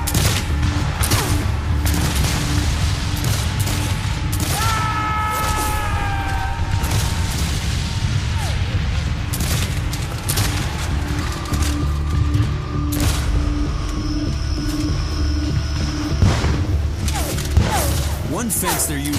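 Musket fire at Pickett's Charge: scattered and massed gunshots crackling in bursts over a continuous low rumble, with whistling tones and a voice talking over much of it.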